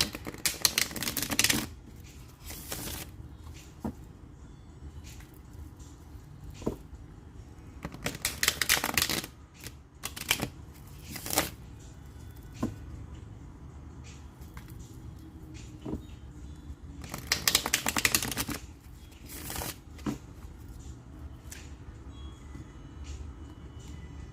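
A deck of tarot cards being shuffled during a reading, heard in several short, crisp riffling bursts spaced across a quiet background with no talking.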